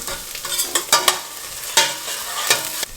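Onions sizzle in a hot pan for stuffed eggplant, north Indian style, with ginger and garlic, as a utensil stirs and scrapes in several sharp bursts over a steady frying hiss, close and alone.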